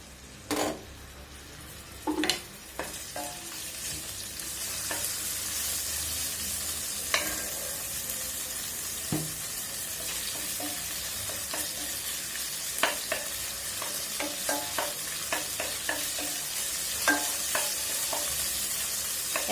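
Ginger-garlic paste fries in hot oil in a pan with a steady hiss, set against scattered spoon taps and stirring clicks throughout, close by and without talk.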